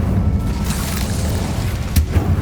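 An Incendio fire spell in Hogwarts Legacy lets out a rumbling boom with a roaring low burst that sustains throughout, and a sharper crack near the end.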